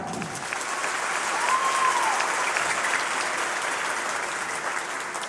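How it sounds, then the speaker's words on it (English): Applause at a Ballantyne Ridge High School graduation for a student, steady clapping from a large crowd that swells gently and holds. "Let's give her a round of applause."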